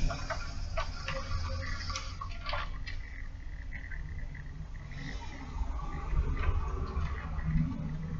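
Trimming the foot ring of a clay pot on a spinning wheel, a soft scraping tool rasp with light ticking clicks against a low rumbling motor hum, fairly quiet and steady.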